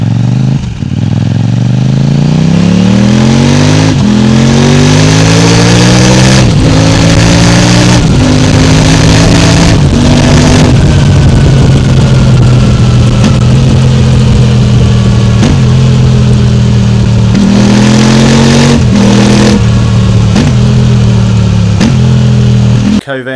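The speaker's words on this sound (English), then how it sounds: "The standard exhaust can on this has got a real deep grumble to it." A Kove 800X Rally adventure motorcycle on its stock exhaust can, revving repeatedly from a deep grumbling idle up to loud climbing roars and dropping back, close and steady over more than twenty seconds with no talk.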